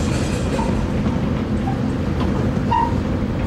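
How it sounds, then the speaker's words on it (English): Steady low rumble of the Excalibur-Luxor-Mandalay Bay tram in Las Vegas rolling along, with faint squeals of braking wheels as it slows; continuous and fairly loud, no voices. "The tram is slowing down."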